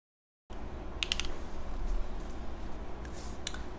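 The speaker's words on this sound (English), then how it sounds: "let's try typing on it" Typing on a Luminkey80 MK II mechanical keyboard, a quick run of crisp, close clicks and clacks in uneven bursts that starts after a brief silence, with a faint background hum.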